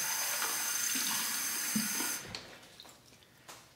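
A tap gushes hot water into a marble shaving cup before a straight razor shave, a steady rush for about two seconds that stops, leaving a few light clinks and taps.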